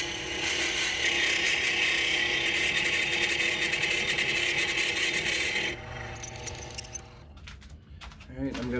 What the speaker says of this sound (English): I want to drill with my Forstner bit at high speed